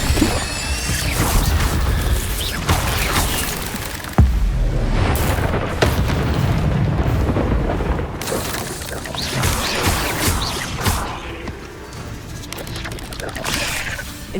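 Incendio fire spells are cast repeatedly in the Hogwarts Legacy video game, with loud booming bursts, crashes and whooshing fire over a dense, chaotic battle background.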